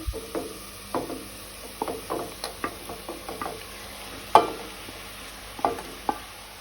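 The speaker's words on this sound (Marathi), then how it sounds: "मटण आमकां 2-3 मिनटां तळसून घेवपाक जाय।" Mutton fries in a pan with onions and tomatoes, a soft sizzle under irregular stirring clicks and spoon knocks against the pan, close and fairly quiet.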